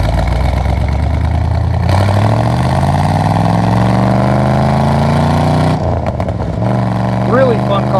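A 1969 Chevrolet Corvette with a 4-speed pulls away from a gravel stop, its engine note climbing steadily through the revs, dropping off briefly at a shift and then picking up again. The engine is loud and close throughout.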